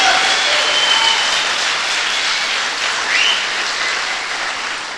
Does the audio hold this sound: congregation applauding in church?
yes